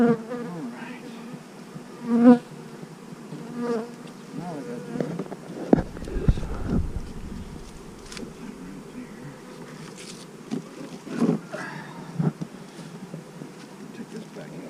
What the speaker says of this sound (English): Lots of bees on there